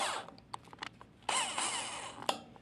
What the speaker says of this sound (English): take one of our metal screws and drill another hole into our metal